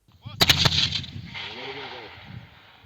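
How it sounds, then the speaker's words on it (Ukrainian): A mortar battery fires during outdoor artillery training, one sharp loud blast followed by a long rolling echo that fades across open ground. "Ці постріли робота мінометної батареї по ворожій піхоті та техніці окупантів."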